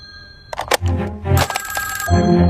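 A telephone ringing on an outgoing call: an electronic ring tone in repeating bursts, close and fairly loud, with no one talking over it.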